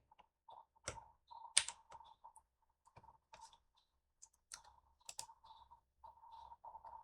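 Short plastic key clicks on a computer keyboard as Ctrl C is pressed, a scattered run of quiet taps and a few sharper presses, close and alone.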